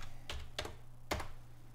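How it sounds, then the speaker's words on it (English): Three quick, close keystrokes on a computer keyboard while typing a search, fairly quiet, with no talking. "on Cabela's, let's type in decoy"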